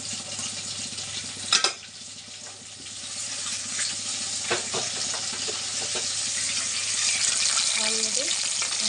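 Eggplant pieces fry in bubbling oily masala curry, a steady broadband sizzle with a few clanks of stirring and a brief spoon knock early on, no voices.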